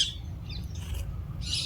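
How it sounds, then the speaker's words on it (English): Parakeet at Keoladeo bird sanctuary in Bharatpur giving a few short, sharp high chirps at the start, middle and end, fairly close over a low rumble of background noise. "This is parakeet."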